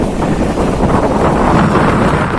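Wind on a clear morning at a seaside fishing spot buffets the microphone in a loud, steady roar with no pauses.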